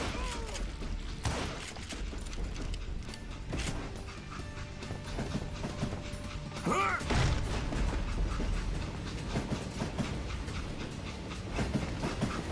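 A train rolls along the tracks with rhythmic clattering and mechanical rumbling, steady and fairly loud throughout, with occasional sharper knocks and squeals.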